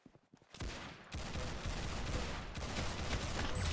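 Gunfire in a Roblox shooter: a brief quiet opening, then a sharp shot followed by a sustained, fairly loud spray of rapid shots and impacts continuing to the end.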